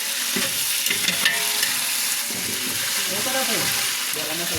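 Mint, green chillies, curry leaves and coriander frying in oil in a pot for bagara rice, a loud continuous sizzle with rhythmic scraping stir strokes, close and prominent.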